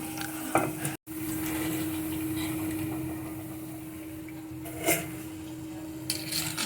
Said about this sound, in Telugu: ఇలా పిండిలో డిప్ చేసి ఆయిల్ వేసి డీప్ ఫ్రై చేసుకోవాలి